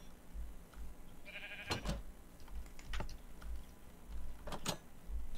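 Sheep in Minecraft give a short, clear bleat amid soft keyboard clicks and sharp tapping sounds in a quiet setting.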